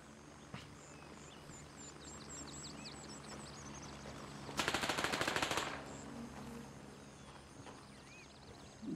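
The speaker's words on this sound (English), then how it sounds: "Gunshots northeast, no visual" A rapid burst of video game gunfire rattles for about a second at moderate distance, set against a quiet background of chirping insects and soft ambient hum.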